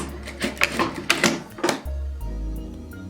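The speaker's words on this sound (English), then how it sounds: "So I'm just going to sew a few inches" Sewing machine stitching a few inches of seam on a fabric storage container, starting with quick bursts of mechanical stitching and then running in a steadier hum.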